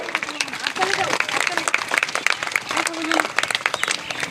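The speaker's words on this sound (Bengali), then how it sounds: "আমি অভিভাবকদের জন্য একটা হাততালি চাই সবাই" A crowd at a school freshers' reception and parents' gathering applauds the parents, a broad, moderately loud wash of many hands clapping that swells and eases, with voices talking faintly underneath.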